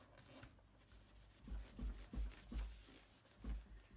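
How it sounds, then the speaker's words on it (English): Stamp cleaner scrubbed across a Waffle Flower water media mat, a quiet series of soft, uneven rubbing strokes that grow into several firmer swipes. "Let's see how good that cleans off using an actual dedicated cleanser."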